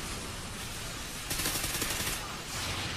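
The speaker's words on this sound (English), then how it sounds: "he spawned on me with a shotgun" Gunfire in the shooter game Call of Duty: Ghosts, heard as a dense roar of close, loud shotgun blasts over continuous game noise, with a heavier burst midway and another near the end.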